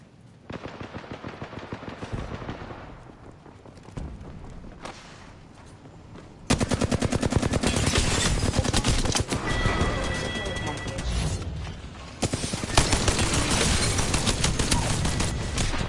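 Gunfire in the video game Apex Legends: sparse shots early, then loud, sustained rapid-fire bursts from about the midpoint onward, with a player talking over the shooting.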